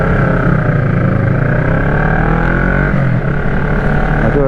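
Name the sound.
noisy bike approaching from behind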